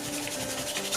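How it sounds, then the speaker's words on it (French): A pencil eraser rubbing over paper to remove pencil lines, a steady close scratchy rubbing that continues throughout without a break. "ce qui me reste à faire maintenant c'est gommer le crayon"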